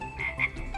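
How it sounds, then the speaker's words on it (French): A frog croaks at a campground, giving a couple of short, raspy calls close to the listener, with no voices over them. "Une grenouille!"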